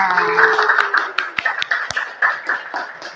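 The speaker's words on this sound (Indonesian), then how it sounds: "tepuk tangan dulu untuk semuanya" Classroom applause in a school counseling lesson, a group of students clapping in a brisk, uneven patter of close hand claps, with a voice briefly audible at the start.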